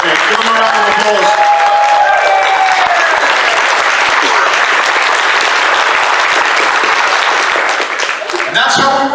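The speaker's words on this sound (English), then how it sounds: "Give them a round of applause." Audience applause fills a convention opening ceremony, a dense, steady clapping crowd that stays loud for about eight seconds before thinning near the end as a voice starts to speak.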